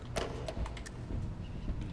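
A door closes in the horror video game Lunch Lady, giving a few soft, brief thuds and clicks over faint background noise.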